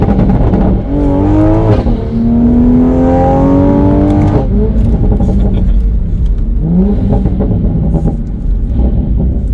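Tuned Toyota A90 Supra pulling hard in third gear from a roll, engine note climbing steadily in loud sweeping revs, pausing briefly for a shift and then rising again.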